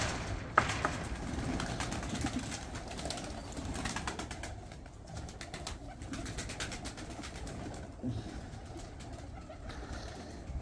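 Large old breeder pigeons of the Mian Nazir bloodline coo in a loft in Bradford, UK, a soft continuous murmur with occasional wing flutters and background noise.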